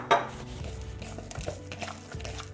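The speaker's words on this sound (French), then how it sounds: "Bien mélanger." Seasoned spinach with salt, pepper and sesame oil, tossed for bibimbap: soft stirring with light clinks and scrapes against a bowl, close and gentle, in a steady, uneven rhythm.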